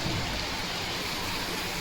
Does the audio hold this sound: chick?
no